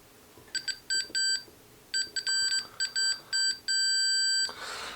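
Multimeter continuity tester beeping while probing through a coil of a Lafayette HE 40 radio, several short bright beeps in quick bursts followed by one long sustained tone, clear and alone.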